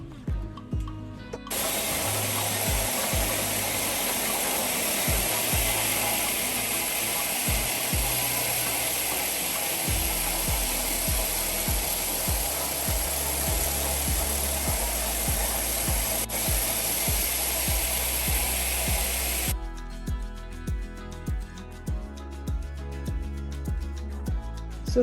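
A wool carding machine with rollers runs in a mill, giving a continuous loud whirring rumble with regular low thumps throughout and a rhythmic knocking that grows more distinct near the end.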